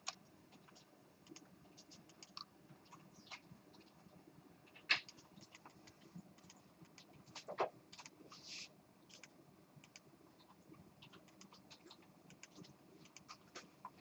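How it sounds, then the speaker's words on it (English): Light typing on a computer keyboard, soft irregular key clicks and taps pattering steadily at low level, with a couple of slightly sharper keystrokes standing out. "So I'm going to type in 100 there."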